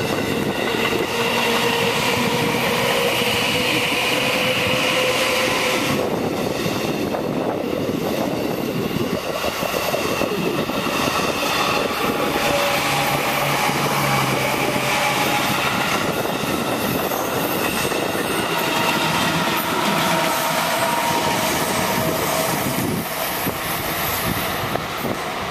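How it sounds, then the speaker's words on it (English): A train in Japan rumbles past for the whole stretch, with steady rolling noise, metallic wheel squeals and faint rhythmic clatter on the rails. "Here's a train."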